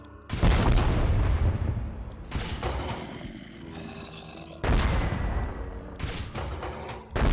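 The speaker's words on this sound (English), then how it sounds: "the explosive radius of these grenades is pretty low." Grenade launcher explosions in the Techguns mod for a video game, several loud, close booms with rumbling decay, one near the start, another around mid-clip and more toward the end.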